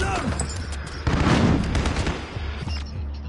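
In a video game firefight, a grenade goes off with a loud, sudden blast amid bursts of gunfire, and the rumble and crackle fade over a few seconds.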